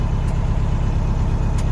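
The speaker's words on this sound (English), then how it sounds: "Hear that supercharger whining away." A 1979 Western Star truck with a Detroit 8V71 two-stroke diesel runs steadily with a supercharger whine, a dense, constant engine roar heard up close and alone.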